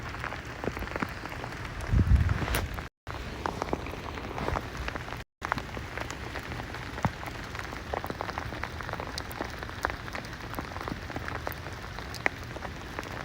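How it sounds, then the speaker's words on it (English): Sleet falling during a storm in New York City, a steady dense patter of icy pellets hitting surfaces, continuous hiss-like ticking with a brief louder rumble early on, no voices. "the sleet's getting even worse now"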